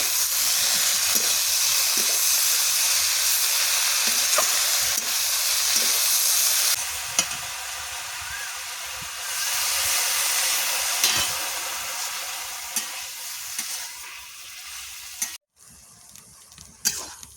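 Vegetables and shrimp for a red amaranth greens dish sizzle and hiss steadily in a pan in a village kitchen while being stirred, with a continuous loud frying hiss and occasional scraping of the spatula, no talk.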